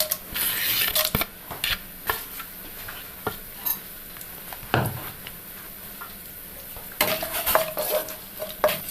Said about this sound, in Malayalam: ചൂടായ നെയ്യിലേക്ക് സ്പൈസസ് ഇട്ട് കൊടുക്കാം.